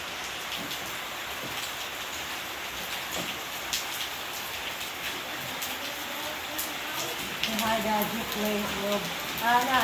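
Heavy rain pours down steadily in the Philippines, a dense continuous hiss of drops on surfaces with scattered louder splatters. A voice comes in faintly near the end.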